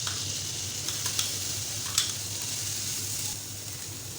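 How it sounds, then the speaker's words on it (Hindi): Carrots sizzle in a little oil with ginger garlic paste, giving a soft, even frying hiss with a low hum beneath and a few faint utensil taps. "सबसे पहले मैं इसमें ये गाजर डालूँगी"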